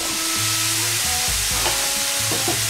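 Bottle gourd dropping into a frying pan of sautéing onion and tomato, a loud constant sizzle with scraping stirs and low clunks of the utensil, close and without talk.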